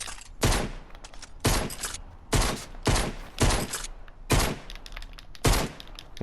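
Shotgun blasts from the Fortnite video game, six loud, sharp booming shots spaced about a second apart with brief decaying tails between them, no talking.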